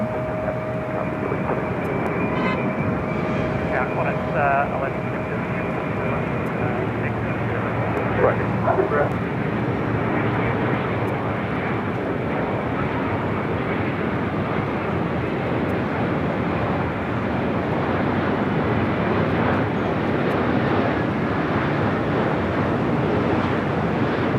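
An airliner lands on runway 24 right at Los Angeles International Airport, a broad sustained roar of engines and rushing air heard from a distance, with a voice speaking over it.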